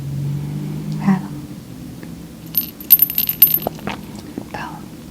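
A handheld rattle shaken during an ASMR sound therapy session, giving brief bursts of bright, granular clatter near the microphone amid quiet pauses, with a faint whisper-like breath early on.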